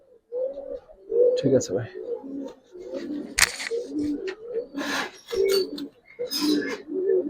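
Giribaz and coloured pigeons kept for sale coo repeatedly in soft, throaty bursts close by, while someone talks over them throughout.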